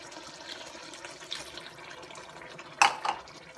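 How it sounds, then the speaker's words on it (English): Reserved mushroom liquid pours into a pan of bolognese, faint trickling with a brief sharper splash and clink late in the moment. "And the 1 cup of the reserved mushroom liquid."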